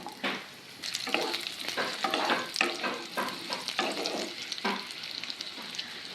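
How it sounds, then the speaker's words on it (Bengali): Cut potatoes fry in hot mustard oil with loud crackling sizzle, broken by repeated scraping stirs of a spatula at an uneven rhythm, close up, with no talking. "এবার আলুগুলোকে হালকা করে ভেজে নেব"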